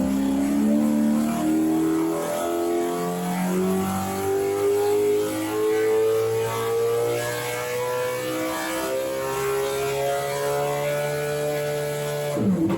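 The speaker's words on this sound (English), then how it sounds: "So it is a 358 TRD NASCAR engine." A Toyota TRD 358 NASCAR V8 racing engine, a Phase 14 build, revs hard on a dyno, rising through long, loud sweeping pulls with a raw, continuous roar.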